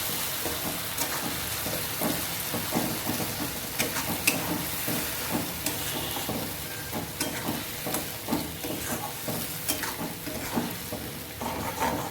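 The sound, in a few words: frying spice paste with banana stem paste in pan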